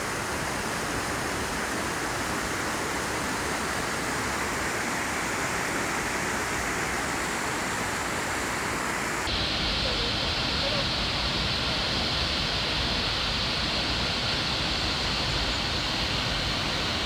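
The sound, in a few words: waterfall at end of hiking trail in Oregon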